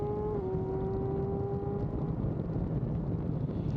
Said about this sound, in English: But just opening up this bike, listen to it.